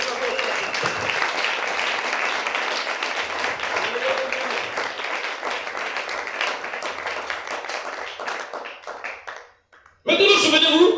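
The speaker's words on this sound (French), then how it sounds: "Acclamons pour le Seigneur" A church congregation at a Sunday service bursts into loud, sustained applause and clapping that fades out after several seconds, followed by a brief burst of voices.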